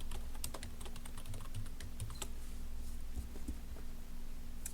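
Rapid keystrokes clatter on a computer keyboard, an irregular stream of close clicks over a faint steady hum.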